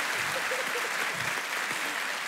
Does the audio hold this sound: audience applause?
yes